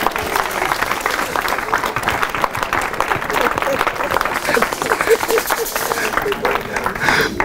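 A church congregation applauding, a dense, steady patter of many hands clapping at once with voices mixed in throughout.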